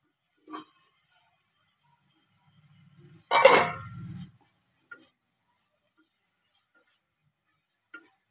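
Prawns and onions hit hot oil in a pan: one burst of sizzling and stirring lasting about a second, with a few faint clicks around it and quiet in between.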